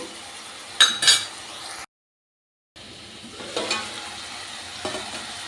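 Tomatoes with salt cooking in a covered pan for Nellore-style fish pulusu, giving a soft steady sizzle with a few clinks and stirring scrapes, a brief silent gap in the middle.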